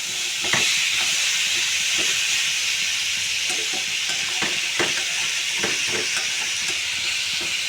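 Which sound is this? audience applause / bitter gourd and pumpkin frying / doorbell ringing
bitter gourd and pumpkin frying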